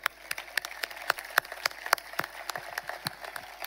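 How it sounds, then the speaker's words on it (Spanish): Audience applause at a concert in Almudévar: a thin, scattered crowd claps in an uneven patter of sharp individual hand claps, moderately near and steady throughout, with no talk. "Un aplauso para ellos."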